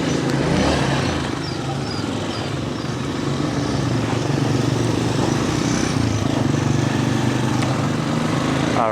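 A carbureted 16.5-horsepower motorcycle ridden along a road at altitude in South America, its engine droning loudly and continuously with steady wind rush, and no voices.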